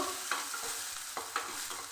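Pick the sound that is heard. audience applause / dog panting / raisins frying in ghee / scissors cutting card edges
raisins frying in ghee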